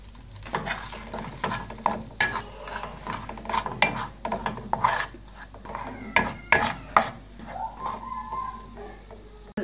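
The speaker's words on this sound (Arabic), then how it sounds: "درنا دابا الزيت، حنا زدنا عليه الطحين" Flour being stirred into hot oil in a pan for a béchamel sauce: irregular scraping and clinking strokes over a soft steady sizzle, close by.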